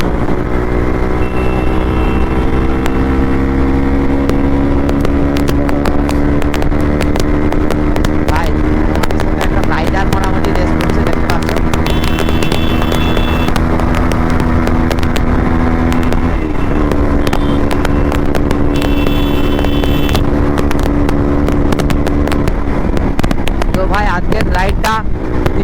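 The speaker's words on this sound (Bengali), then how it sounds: "তিনটা বাইকের মধ্যে আমরা এসছি, তিনটা বাইক নিয়ে, তো গ্রুপ রাইড হচ্ছে" Motorcycle engines from three bikes on a group ride drone loudly and steadily throughout, with rising and falling revs, wind buffeting the microphone, and a rider talking over the noise.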